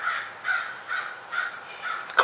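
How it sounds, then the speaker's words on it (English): Crows caw in a steady series of about five harsh calls, evenly spaced and moderately loud, heard outdoors near a garage with no talking over them. "Crows."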